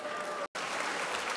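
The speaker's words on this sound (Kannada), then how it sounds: "ಧನ್ಯವಾದ ಚಪ್ಪಾಳೆ ಹಾಕಿಕ್ಕೆ" A school annual day audience applauds with dense, steady clapping throughout, cut by a very brief gap.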